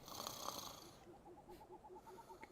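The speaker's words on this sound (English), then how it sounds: "Complete with snoring effect." A sleeping character in the Minecraft video game snores in a slow, steady rhythm of short wheezy breaths, repeating about every quarter second under a soft ambient bed, after a brief louder burst of game sound at the start.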